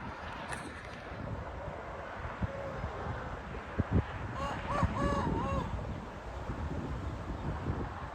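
Wind blowing steadily on a blustery day at a racing pigeon loft, a constant broad rush with gusty buffeting against the microphone, and a few faint bird calls and knocks in the middle.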